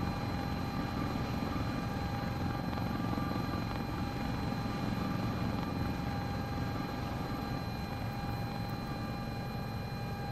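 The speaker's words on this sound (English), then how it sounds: "We got a snazzy helicopter with some good forward airspeed and pretty solid avionics." Helicopter in forward flight in a flight simulator game, a steady, loud rotor and engine drone with constant whining tones, unchanging throughout with no talk.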